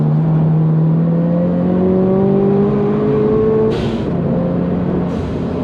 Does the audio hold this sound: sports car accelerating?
yes